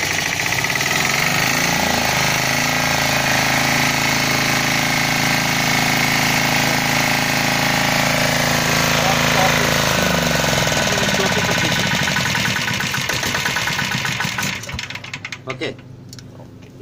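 An emergency fire pump's diesel engine aboard a ship runs loudly and steadily with a dense mechanical clatter, then winds down and stops near the end.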